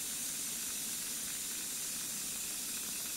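Steam hisses continuously and loudly from the valve of an overhauled steam engine, opened at 2 bar boiler pressure, as one unbroken broadband rush with no voices.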